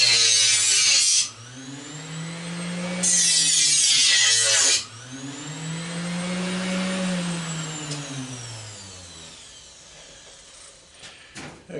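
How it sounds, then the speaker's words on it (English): A power grinder cuts into a spot on a scrap brass faucet in two loud harsh bursts, its motor whine rising and falling between them and winding down to quiet at the end. "I'll grind the spot on this and we'll see what we got."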